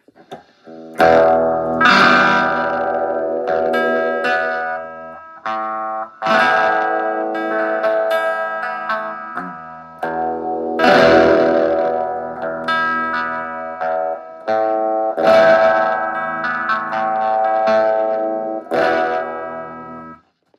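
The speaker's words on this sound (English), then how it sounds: "you can go up to phase 9, which it may be a phase 90 clone." Electric guitar chords and riffs played through a Phase 90-style phaser on a JOYO GEMBOX floor modeller, giving a swirling, whooshing tone; loud and continuous with short pauses between phrases.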